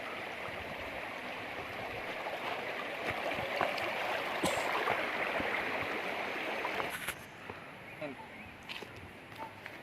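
A clear forest river in North Bengkulu flows with a steady, broad rush of water, continuous through the clip, with a few footsteps and talking voices mixed in.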